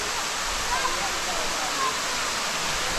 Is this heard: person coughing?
no